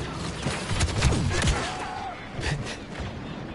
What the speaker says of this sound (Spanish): le disparo con la Gatling esa, tío, y un tirillo con la pistola